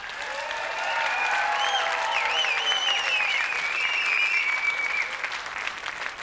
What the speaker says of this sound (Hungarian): Köszönjük nagy tapssal az Újhartyányi Ifjúsági Tánccsoportot!